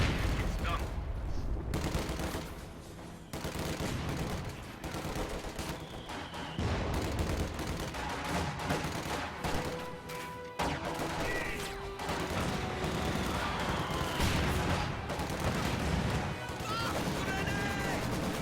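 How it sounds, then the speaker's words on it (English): Gunfire and mortar fire rattle through a WWII strategy video game battle, with Soviet mortars bombarding infantry near a Maxim machine gun: dense, continuous volleys, bursts and blasts layered over a commentator talking. "Rifle grenade on that Maxim brings it dangerously low. Soviet mortars bombarding these infantry"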